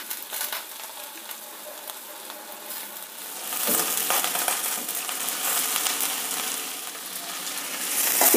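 Squeezed, water-soaked brinjal pieces hit a hot pan, a low fry that swells into a louder, busier sizzle and stirring noise about halfway through, with no voices.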